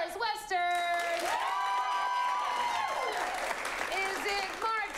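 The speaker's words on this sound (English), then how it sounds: "I want you to clap for all of them, but you are going to clap loudest for the movies that you would like to see continue" A live improv comedy show audience bursts into applause and cheering, a dense wash of clapping with whoops lasting several seconds, heard alongside loud voices talking and calling out.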